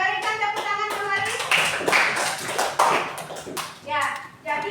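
A school class gives a round of applause, brisk irregular hand clapping mixed with children's voices talking over it.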